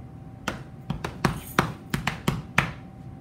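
Body percussion of someone tapping on his chest: about eight dull, thumping taps in an uneven rhythm, close and moderately loud, with no talking.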